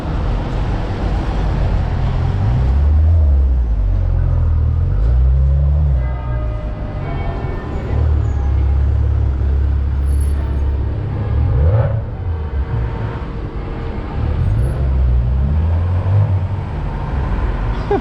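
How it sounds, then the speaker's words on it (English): Heavy, continuous drone of car and bus engines on a busy street in Oxford, a deep low rumble that swells and eases as vehicles pass close by. "So many engines"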